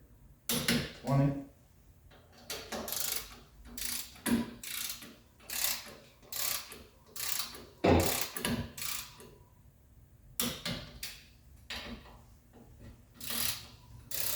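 A ratchet tightens Porsche 911 clutch bolts in a star pattern, giving close, repeated bursts of metallic clicking in short runs separated by brief pauses.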